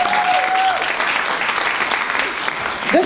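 Sustained applause from a church audience honoring volunteers rolls on evenly for a few seconds, a broad wash of many hands clapping together.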